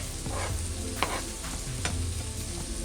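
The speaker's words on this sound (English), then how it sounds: "And now we'll add the garlic." Garlic sizzles in a hot pan with shallots and kale stems for braised rabbit, a steady close frying hiss broken by a few sharp stirring clicks and scrapes.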